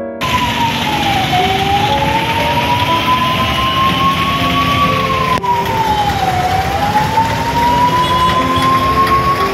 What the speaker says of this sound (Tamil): அந்த நேரத்தில் ஒரு ஆம்புலன்ஸ் வந்துச்சு.